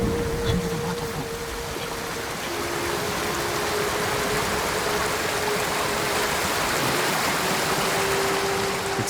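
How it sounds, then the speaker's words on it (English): A waterfall in the video game Ghost of Tsushima, a steady, dense rush of falling water that stays constant throughout, with a faint sustained tone running underneath. "Under the waterfall."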